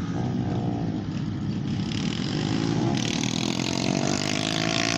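A motorcycle engine drones loudly and steadily at close range during a daredevil stunt show at an airport, with a brief rise in pitch partway through and faint voices beneath the roar.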